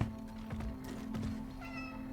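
Cats meow in a video game, a short cluster of close, clear mews over a low steady hum, with no talking.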